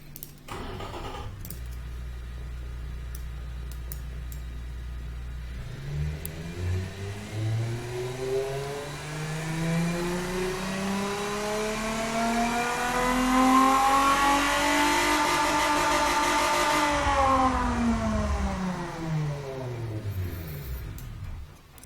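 A V6 sports car engine in the Automation car-building game, rated around 259 horsepower, idles steadily then revs up through a long, rising sweep, peaks loudly and winds back down, heard alone without talk.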